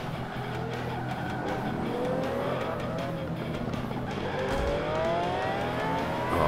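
A VW Beetle race car in Forza 5 revving hard under acceleration, engine pitch climbing through the gears in repeated rising sweeps, with tire squeal and other cars droning around it, continuous and loud.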